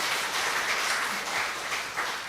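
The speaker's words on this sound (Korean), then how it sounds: "박수! 박수! 박수!" Steady audience applause at a Korean church health talk on fighting cancer, with dense continuous clapping filling the whole stretch at an even, sustained level and no voice on top.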